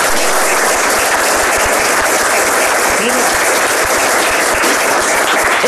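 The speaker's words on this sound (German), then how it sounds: "da hat er einen ganz, ganz großen Applaus verdient" Sustained audience applause at a panel discussion at an ethics and AI congress, dense steady clapping from a large crowd filling the whole stretch at high level, with no break.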